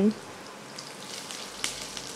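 Cut potatoes sizzle and crackle in hot oil while being stirred in a pan for a bitter gourd and potato curry, a steady soft frying hiss with a brief louder scrape near the end.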